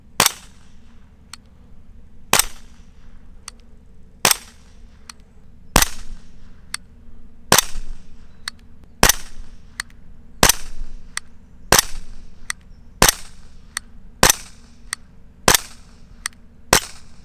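A GHK Glock 17 airsoft gas pistol fires a dozen sharp, snappy shots at an even pace of roughly one every one and a half seconds, each crack clear and close against a quiet background.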